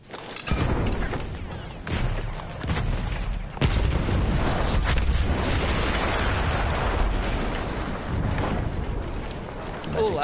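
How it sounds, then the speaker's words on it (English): A booming explosion in a war video game, a loud blast followed by sustained roaring, rumbling debris and wind-like noise lasting several seconds, close and heavy throughout. "Explosion was one of the sweetest sights of the war for me."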